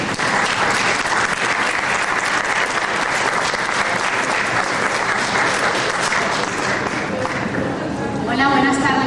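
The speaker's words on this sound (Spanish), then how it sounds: "el Foro Roberto Bolaño les recibe con un fuerte y caluroso aplauso" A forum audience gives loud, sustained applause to welcome the speakers at a talk on Ayotzinapa, a dense wash of clapping that stays steady throughout, with some faint voices mixed in near the end.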